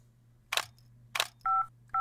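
Cell phone keypad tones in the video game Henry Stickmin Collection: two short hissy beeps followed by two clear tonal dial tones, alone over a faint steady hum.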